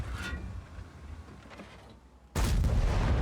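Tank cannon fire in World of Tanks: a sharp blast early on over steady battle rumble, then a loud, sustained roar of a heavy shot or explosion bursting in near the end.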